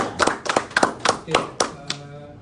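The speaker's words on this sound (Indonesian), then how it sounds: "berikan suara tepuk tangan untuk Bapak Gangga" A few people clap at a media event introducing an Astra Motor marketing manager, about seven to eight distinct, fairly close claps that thin out and fade at the end.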